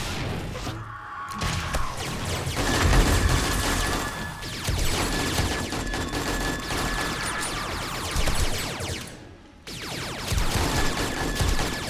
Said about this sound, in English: It seems like the turrets are shooting them.